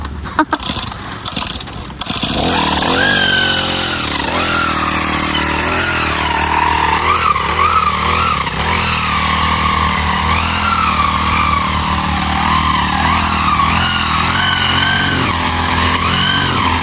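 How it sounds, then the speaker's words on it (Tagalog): A grass cutter's small engine starts after a brief clatter and then runs loud and steady, its pitch wavering up and down as the throttle shifts. "Start na po ulit si bossing mag-grass cutter."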